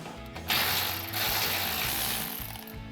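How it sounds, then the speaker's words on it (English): Ratchet loosening a 13mm brake line bracket bolt on a RAM 1500 pickup, a close, continuous burst of fast pawl clicking. "So this is a 13mm. I'm gonna take my ratchet,"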